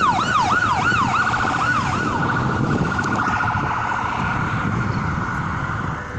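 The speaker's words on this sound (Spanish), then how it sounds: "La ambulancia viene en sentido contrario" An ambulance siren wails in a rapid rising and falling pattern, loud at first and then fading as it passes, over steady street traffic noise in Mexico City's Zócalo.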